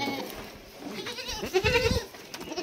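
Young Sojat breed goat kids with pink skin bleat in a short burst of several overlapping calls, fairly close, over light outdoor farm background noise.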